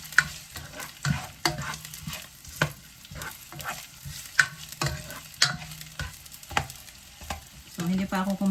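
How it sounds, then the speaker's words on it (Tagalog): Onion and garlic sautéing together in a pan for chicken tinola, a steady close sizzle broken by repeated spoon scrapes and stirring clatters at an uneven rhythm throughout. "Sinasabay ko yung onion at saka garlic."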